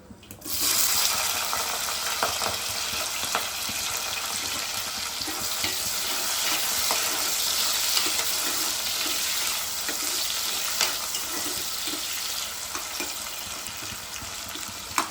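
Onions and potatoes fry in a pan with a broad, steady sizzling hiss that holds evenly throughout after a brief quiet start, with faint scraping and no talk.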